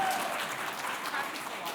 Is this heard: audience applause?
yes